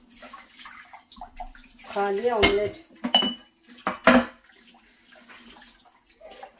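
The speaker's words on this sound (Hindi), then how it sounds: "ये जो पानी इकट्ठा हो रहा है ये मुझे जाके अभी फ़ौरन गिराना है गार्डन में" Water running and splashing in a blocked kitchen sink among clinking dishes and cutlery, uneven bursts of clatter and pouring, with someone talking throughout.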